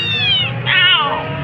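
A frightened domestic cat meows plaintively up close, two drawn-out, wavering cries in quick succession with a brief gap between them.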